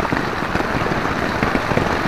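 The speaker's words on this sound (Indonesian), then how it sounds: "kita masih di tenda karena hujan" Steady rain drums on a tent at a beach campsite, a dense, constant patter of drops that stays close and even throughout with no voices.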